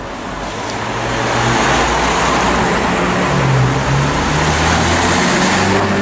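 Road traffic rolls past close by on a narrow roadside stretch, a loud continuous roar of engines and tyres that swells after the first second and holds steady, with low engine hum throughout.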